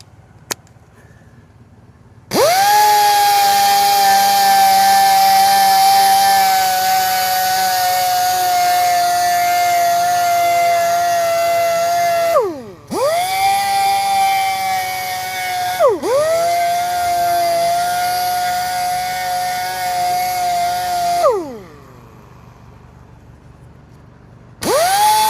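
Curb rash on a Porsche wheel is sanded with 220 grit using a power sander. A loud, steady, high whine runs in three long passes, dipping in pitch as the tool bears down, with brief pauses between.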